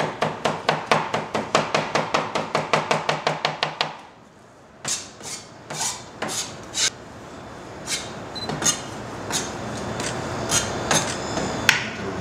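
Rapid, even chopping on a board with two knives for about four seconds, then slower scattered knocks and scraping taps, with no talking.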